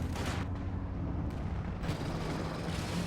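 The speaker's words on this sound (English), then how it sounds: "Looks like a Werfer barrage" Werfer rocket artillery barrage in Company of Heroes 2, dense overlapping booms and blasts rumbling loud and continuous across a few seconds.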